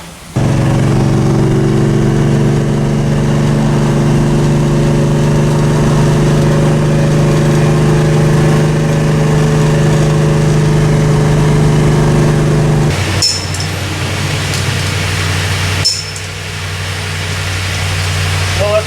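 A 1967 Chevrolet Chevelle with brake issues, its engine running steadily with a loud, even drone that drops and shifts partway through as the car sets off, close to the listener.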